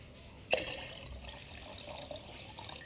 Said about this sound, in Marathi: आता हे पाणी मी या बरणीमध्ये टाकणार आहे